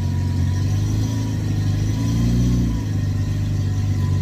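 A Renault 10 engine runs steadily after its choke is adjusted to half, a loud, close, even idle with a slight rise in pitch midway before settling back.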